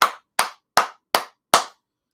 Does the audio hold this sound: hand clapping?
yes